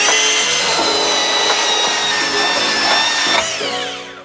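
Power sanding of glued-up recycled skateboard wood for a knife handle, a loud, steady high-pitched whine with grinding friction that runs continuously before tailing off slightly at the end.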